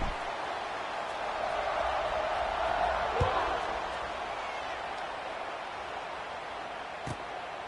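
A stadium crowd roars in the College Football 26 video game as the kickoff approaches, a broad, steady wash of noise with a few faint thumps, and no talk over it.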